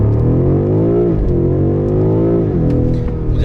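A BMW M5 Competition's engine hums loud and close as the gearbox shifts, the note dropping with a jolt around each change, a steady mechanical drone with no talk.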